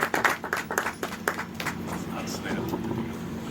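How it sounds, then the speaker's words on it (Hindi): At a film festival poster launch, an audience claps in scattered, uneven bursts at first, then the claps thin out under someone speaking over a microphone. "इनके लिए एक बार जोरदार ताली"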